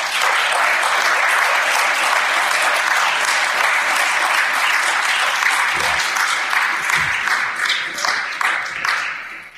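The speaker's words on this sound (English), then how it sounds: "I think he deserves a crowd of applause for that" Crowd applause at a cannabis medical research expert panel in San Diego, dense steady clapping from an audience that carries on for several seconds before tapering off.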